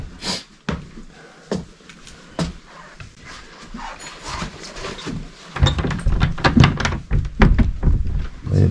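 Someone tries a closed door in an old, vintage-style building, with a handful of knocks, clunks and rattles at irregular intervals, followed by a busier stretch of handling noise and shuffling close by.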